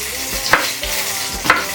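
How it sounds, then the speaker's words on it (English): Julienned onions sizzle and crackle in a hot pot, a steady frying hiss with a couple of sharper pops and stirring scrapes. "when you toss onion in there, it starts to sizzle like this"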